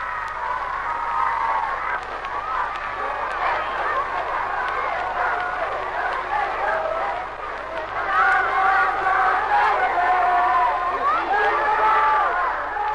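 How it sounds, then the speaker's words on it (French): Ovations greet Marshal Pétain in Paris: a dense crowd roar of cheering and shouting, steady and far-off, rising near the end, on an old, hissy recording. "les ovations qui l'ont salué sur son parcours"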